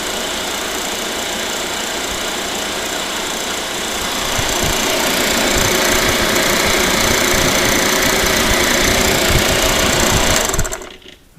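A vacuum pump runs steadily on the refrigerant line of a 40-year-old Sub-Zero refrigerator, a loud continuous mechanical drone with rapid pulsing that rises slightly partway through, then cuts off abruptly at the end.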